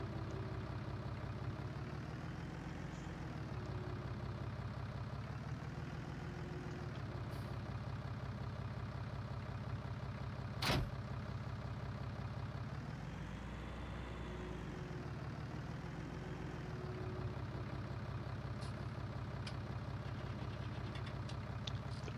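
Tractor engine idling in Farming Simulator 19, a steady low diesel rumble that swells slightly in revs twice, with one sharp click partway through.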